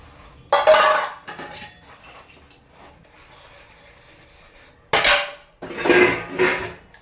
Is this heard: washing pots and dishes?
yes